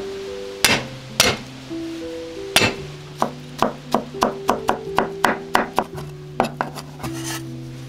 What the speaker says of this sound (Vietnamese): Xong rồi các bạn băm thêm 2 tép tỏi nữa ha